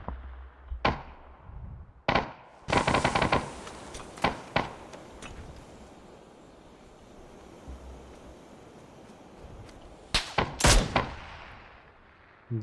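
Gunfire in the battle royale game PUBG: scattered single shots and short bursts, loud and sharp against outdoor ambience, with a dense cluster near the start and another near the end.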